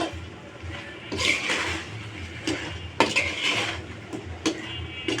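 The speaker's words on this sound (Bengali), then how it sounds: "তো কচুরমুখীটাকে খুব ভালোভাবে মশলার সাথে মিক্স করে নেব" Boiled taro (kochur mukhi) stirred with spices in a pan, irregular metallic scrapes and knocks of a spatula against the pan over a soft background sizzle, close up.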